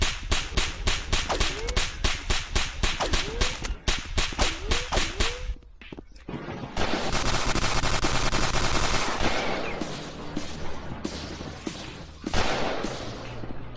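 Rapid bursts of gunfire from a shooting range in the VR video game Rec Room, with sharp repeated shots in a fast rhythm early on, then a denser, sustained stretch of loud firing and clatter, close and prominent.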